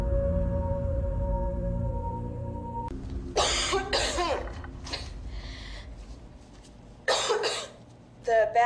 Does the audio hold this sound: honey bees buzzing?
no